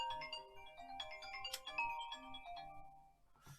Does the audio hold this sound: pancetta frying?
no